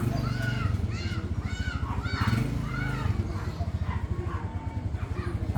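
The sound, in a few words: pigeons flying and cooing outdoors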